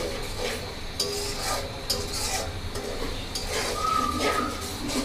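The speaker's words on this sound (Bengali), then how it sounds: "এগুলো মশলার সাথে ভালোভাবে মিশিয়ে নেব" Spices and ground paste being stirred together in a pan for egg korma, with a steady scraping, rubbing motion and a soft sizzle underneath, close and continuous.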